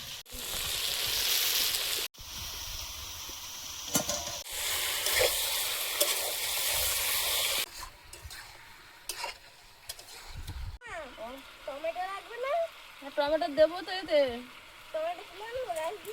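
Pieces of meat sizzle loudly in hot oil while being stirred and scraped. The frying dies down into quieter clatter, and a person talks over the later part.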